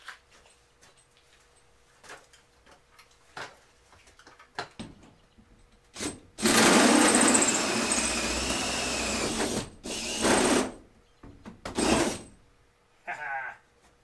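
A drill spinning a hole saw through material while building a garage apartment addition, heard as a loud sustained cutting burst of several seconds with short stop-start bursts after, following quieter knocks and handling sounds.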